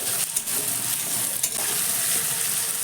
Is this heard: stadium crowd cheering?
no